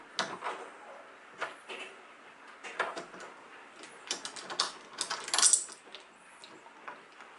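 Screws are turned out by hand while a tubular door lever lock is removed from a household door, giving a run of small metallic clicks, scrapes and ratcheting rattles in uneven bursts, close and fairly quiet, with no one talking.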